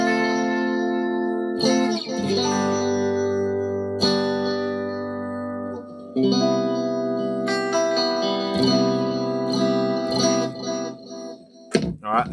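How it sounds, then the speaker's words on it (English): A Reddick Stratocaster electric guitar in the second pickup position rings out in sustained, clean-toned chords and single notes, fairly close and loud, with a few sharp attacks and pauses between phrases. "here's the sound of the Reddick Stratocaster"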